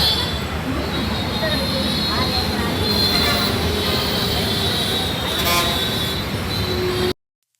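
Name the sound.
metro train running, wheels squealing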